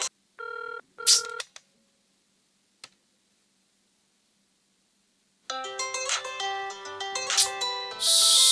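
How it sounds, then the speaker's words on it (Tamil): A mobile phone rings in a quiet room, two short electronic tone bursts, a pause, then a louder, denser ringtone melody that keeps playing to the end. "டேய், ஃபோன் அடிக்குதுடா."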